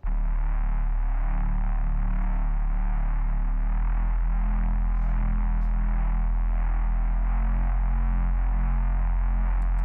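Heavily distorted synth bass riff from a Serum 2 preset in a hybrid trap remix, a loud, dense, continuous growling tone with a deep sustained sub underneath.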